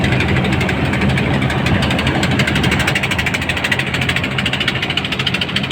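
A passenger launch at Sadarghat idles with a steady, loud diesel rumble and rapid throbbing knock, close and continuous throughout.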